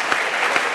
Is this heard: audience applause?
yes